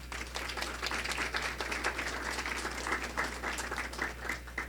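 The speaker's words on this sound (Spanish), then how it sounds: "pido un fuerte aplauso" Applause from an audience at a human rights forum, a steady crackle of many hands clapping over a constant low electrical hum, moderately quiet and sustained for several seconds.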